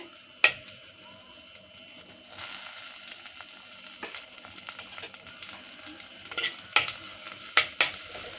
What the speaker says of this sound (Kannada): ಜಜ್ಜಿದ ಬೆಳ್ಳುಳ್ಳಿ ಇದು ಚೆನ್ನಾಗಿ ಸ್ವಲ್ಪ ಫ್ಲೇವರ್ ಚೆನ್ನಾಗಿ ಕೊಡ್ತದೆ ಈ ಥರ ಫ್ರೈ ಮಾಡಿ ಹಾಕಿದಾಗ ತುಂಬ ಫ್ಲೇವರ್ ಚೆನ್ನಾಗಿರ್ತದೆ